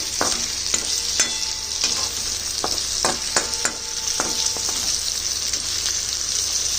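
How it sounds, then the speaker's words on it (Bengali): Stuffed karela (bitter gourd) fries in a pan as spices are stirred in, giving a loud continuous sizzle with repeated clacks and scrapes of the spatula at an uneven rhythm. "করলাগুলোর উপরে ছিটিয়ে দিলাম এবং একটু এটা মিশিয়ে দিচ্ছি"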